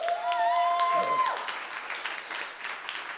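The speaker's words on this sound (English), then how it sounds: "can we have a massive, massive round of applause for the wonderful Adam Finney" A live comedy show audience gives comedian Adam Finney a round of applause, a dense burst of clapping from the crowd that tails off over a few seconds, with a tonal note and a voice fading beneath it at the start.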